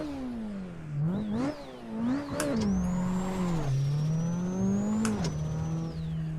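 A race car engine in Assetto Corsa on PS5 revs and shifts repeatedly, its harmonic whine rising and falling in pitch, with a high tire-like squeal layered above, loud and continuous.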